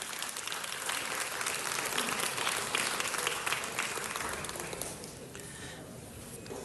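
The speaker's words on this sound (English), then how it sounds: "So let's give my Budget Committee colleagues a round of applause for their leadership on this issue." City council meeting chamber filled with steady applause from the audience, a broad continuous wash of clapping that slowly thins out toward the end.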